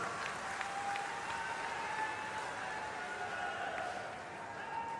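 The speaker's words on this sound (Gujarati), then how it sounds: "એમના માટે જબરજસ્ત તાળીઓથી એમનું સ્વાગત કરીએ." Audience clapping welcomes the Chief Minister at a Gujarat event launching recharge well construction in Banaskantha, steady and moderately loud at a distance, with a faint voice over a public address.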